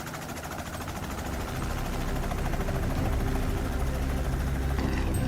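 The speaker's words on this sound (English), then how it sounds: "use a helicopter as their hunting vehicle" A helicopter used for hunting wild boar flies nearby, its dense rotor and engine roar loud and continuous, swelling slightly as it goes on.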